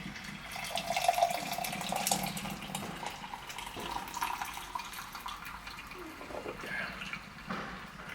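Coffee is poured into a cup on a cold, rainy morning, a faint soft liquid trickle running quietly for several seconds.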